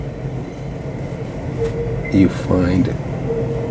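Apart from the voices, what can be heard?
train noise in New York City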